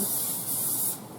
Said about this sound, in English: Now let me spray this